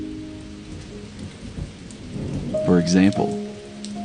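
Steady rain hisses as a constant wash in the background, with a low rumble and a brief spoken phrase over it near the end.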